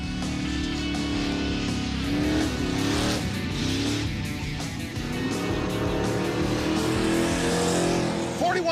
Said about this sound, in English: So can Finnegan beat the rental Wagoneer?